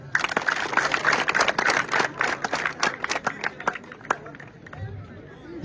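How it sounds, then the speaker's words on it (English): Clapping from a crowd at a South Sudanese school gathering honouring a goodwill ambassador, a dense burst of hands under a loud voice, thinning toward the end. "Can you clap your hand?"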